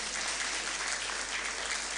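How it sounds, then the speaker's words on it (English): An audience at a membership induction ceremony gives a donor a round of applause. The clapping is steady, even and sustained, from a room of many people, with no talking over it. "So please give him a round of applause."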